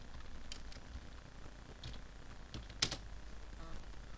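Keystrokes on a computer keyboard as a ROS command is typed, a few scattered clicks with a brief cluster near the end, quiet and close against a steady low background hum.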